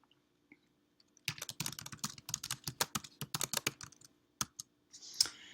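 Quick bursts of keystrokes on a computer keyboard as a title is typed, a steady run of close, crisp clicks with short pauses, then a few final taps, with no talking.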